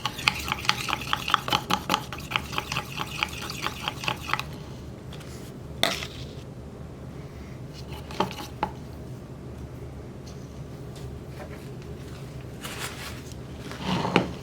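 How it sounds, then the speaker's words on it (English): Silicone mold mixture is stirred in a cup, making rapid rhythmic scraping strokes that are close and distinct for a few seconds, then sparse knocks and scrapes over a quiet background, with no talking. "I was just basically just stirring this up"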